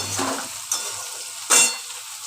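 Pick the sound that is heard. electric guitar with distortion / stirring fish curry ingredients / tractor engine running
stirring fish curry ingredients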